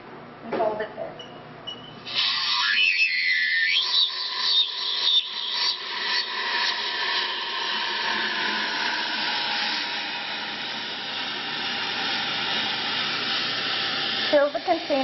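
Liquid nitrogen hissing steadily from a tank's lever-operated nozzle into a container, a loud continuous rushing spray that starts abruptly after a brief quiet moment and runs unbroken until near the end.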